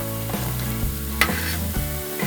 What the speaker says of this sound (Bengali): বড়াগুলো খুব সুন্দর ভাজা হয়েছে।